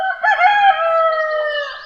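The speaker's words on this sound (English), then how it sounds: "Clear on the air came the sound of the farm cockerel." A farm cockerel crows once at dawn, a loud, close, drawn-out cock-a-doodle-doo rising then holding a long bright note, with no other sound around it.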